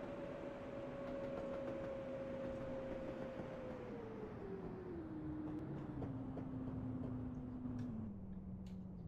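A Konstal 105N tram in the Roblox game rolls along with a steady hum of running noise. Its motor whine drops gradually in pitch as it slows, with faint ticking clicks scattered over the top.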